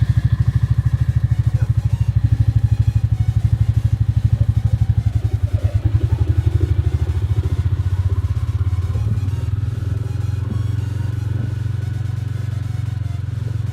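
A Royal Enfield Classic 350 Reborn engine runs steadily nearby with a deep, even thump at idle, a constant low mechanical chug with faint clatter and no talk.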